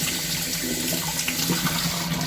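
Hands being washed under a running kitchen tap while baking a chocolate cake, a steady close splashing stream of water that runs continuously without pause.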